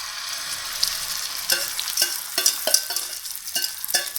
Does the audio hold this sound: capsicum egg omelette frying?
yes